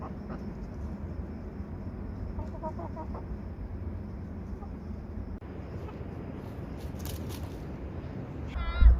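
Chickens cluck softly in the background over a steady low hum, with a brief louder bump near the end.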